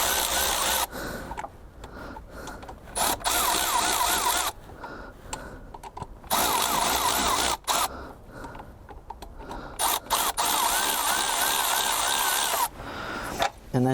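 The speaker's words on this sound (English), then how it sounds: "So I should now just need to take the 3 bolts off" A power tool, likely an impact driver or drill, works off the top exhaust manifold bolts on a car in bursts: several whirring runs separated by short pauses and clanks, fairly close.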